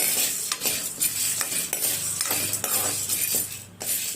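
Chutney powder made with nugge (drumstick) leaves being dry-fried in a pan, with a steady soft sizzle broken by repeated scrapes and clinks of a spoon stirring against the metal, close and continuous with no talking.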